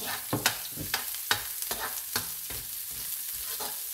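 Garlic frying in a pan for a home-cooked radish and blue marlin dish, with soft sizzling broken by sharp, repeated scrapes and clacks of a stirring utensil, close and fairly quiet.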